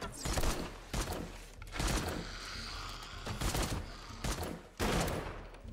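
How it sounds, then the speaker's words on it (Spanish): Rapid bursts of gunfire from the zombie survival video game 7 Days To Die, several loud volleys of shots at irregular intervals over the game's steady background ambience. "Le disparo a la distancia."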